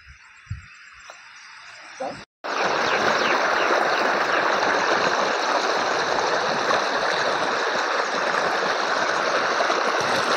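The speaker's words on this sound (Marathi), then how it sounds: "पाणी वाढलं, पलीकडे जाता येत नाही आता, तरी करण जाणार आहे." A stream swollen after rain rushes loudly and steadily, a continuous close roar of water that bursts in after a brief quiet opening with faint sounds.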